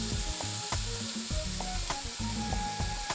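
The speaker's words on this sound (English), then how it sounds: "I'm going to add a little more olive oil to the pan and toss in our onions." Onions sizzle and fry in olive oil in a hot pan, a steady close crackle with frequent small pops and stirring clicks, heard alone without talk.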